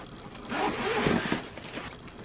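A zipper on a net pouch of a camera bag is pulled open in one quick, close, scratchy run, without any speech.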